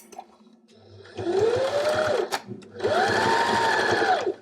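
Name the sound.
sewing machine stitching a Christmas stocking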